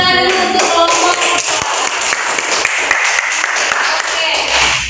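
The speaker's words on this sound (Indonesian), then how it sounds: "Tepuk tangan dulu untuk kelompok." Classroom students clapping for a group during a micro-teaching practice lesson, a loud burst of rapid hand claps lasting several seconds, with voices mixed in.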